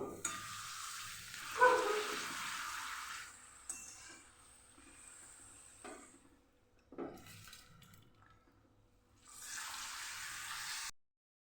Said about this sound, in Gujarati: અહીંયા આપણું તેલ ગરમ થઈ ગયું છે તો પાપડને તળી લઈશું